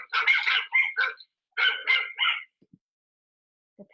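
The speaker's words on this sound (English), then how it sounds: "This turned into frenetic barking." A dog barks in quick bursts, two rapid clusters of sharp, excited barks close by, separated by a short pause, then a faint yip.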